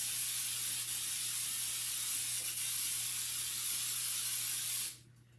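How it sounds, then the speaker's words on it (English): A continuous hiss of Baker's Joy baking spray from an aerosol can into a Bundt cake pan, close and steady for about five seconds before cutting off abruptly. "We are going to spray our baking pan."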